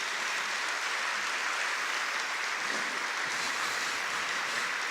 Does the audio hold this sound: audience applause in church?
yes